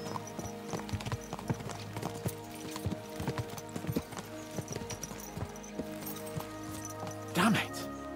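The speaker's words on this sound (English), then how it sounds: "Let's really spur these horses on, eh?" Horses ridden at a trot in Kingdom Come Deliverance 2 give off steady, rhythmic clip-clop hoofbeats over a constant game soundscape, with a brief louder snort or neigh near the end.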